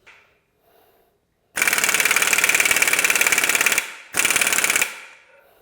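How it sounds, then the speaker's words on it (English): Loud air impact gun hammering on a Classic Mini flywheel in a workshop: a long rapid rattling burst, a brief pause, then a second shorter burst, up close. "because the air impact gun is so loud"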